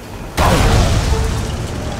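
A grenade detonates in the Sniper Elite 3 video game, a sudden loud boom that breaks in after a short hum and rolls on as a dense, rumbling wash of noise.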